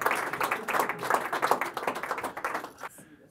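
Small audience at an underground magic show clapping for a volunteer, a short burst of quick, close handclaps that thins and fades out at the end.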